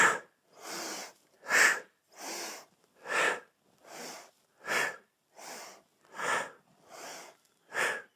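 Rhythmic breathing during Indian club pendulum swings, about ten sharp, close exhales or sniffs spaced roughly evenly, each lasting under half a second, with no talk.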